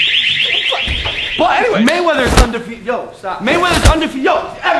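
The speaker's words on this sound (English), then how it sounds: "That door right here, watch, it makes an alarm sound." A stairwell door alarm goes off as the door is opened, giving loud repeated warbling electronic tones mixed with sharp thumps, while people talk over it.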